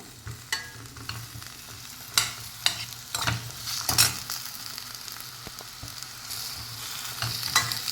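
Brinjal (eggplant) frying in oil in a pan, a steady sizzle with irregular scraping and stirring clicks throughout, close and moderately loud with no talking.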